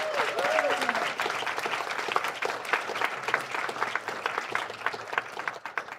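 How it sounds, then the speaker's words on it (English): Steady applause from an audience, many hands clapping at a brisk, even pace throughout, with a brief voice near the start. "if I could have a round of applause, I would greatly appreciate it"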